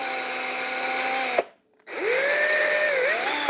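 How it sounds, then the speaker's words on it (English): A power drill whirs steadily during a live build of a Knockout Trilogy kit, cutting out briefly midway before spinning back up with a shifting pitch, loud and close, with no talk over it. "I don't know if you can hear me over the drill"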